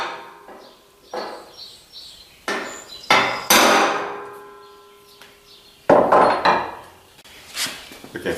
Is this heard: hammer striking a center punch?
yes